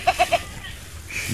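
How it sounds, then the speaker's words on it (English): Three short goat bleats in quick succession open the moment on a small farm with about twenty goats, followed by a faint quieter call near the end, close and clear with no talking. "She is the first born of my 20 goats on this farm."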